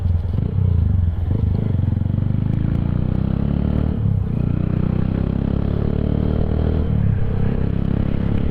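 A motorcycle rides through congested traffic, its engine a loud, constant low rumble with rattling and scraping road noise close by throughout.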